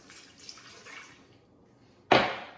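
Warm water poured for focaccia dough in a home kitchen, a faint trickle and splash early on, then a short, louder close gush near the end, with no talking.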